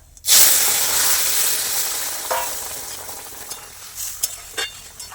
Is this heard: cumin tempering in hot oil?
yes